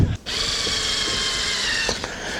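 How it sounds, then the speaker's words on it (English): A power drill runs steadily, driving small screws through the thickest part of a hoof cast rebuild on a horse's seedy toe, with a brief pause near the start and short clicks as it stops. "I now pop in some little screws here. Make sure you go through the thickest part of the rebuild."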